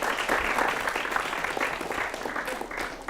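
Indoor school-event audience claps in a dense, continuous burst of applause at moderate loudness, lasting a few seconds without voices on top.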